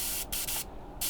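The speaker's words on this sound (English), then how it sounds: "With a single action airbrush, it's just press down the trigger" A single action airbrush sprays paint in steady hissing bursts, starting and stopping as the trigger is pressed and released, with several brief gaps between sprays.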